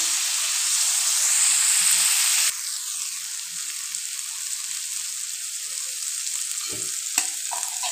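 Tomato, onion and whole cumin seeds frying in a pan, giving a strong continuous sizzle and hiss with occasional close scraping knocks from the stirring utensil, loud and steady, no voices.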